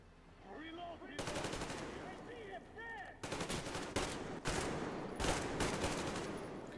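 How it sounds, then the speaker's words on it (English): Gunfire in the video game Metro Exodus: repeated loud automatic bursts and single shots crack out close by, separated by short gaps, with some talk underneath. "What are they shooting at?"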